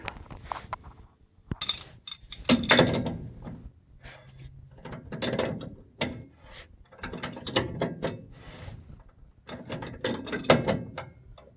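A ratchet tightens new alignment adjusters on a car during a home alignment: bursts of rapid clicking pawl ticks, close and fairly quiet, separated by short pauses and mechanical clunks.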